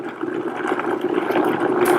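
A Vitamix blender runs on low, whirring through cashews and water with a steady, loud churning wash of liquid noise that holds throughout.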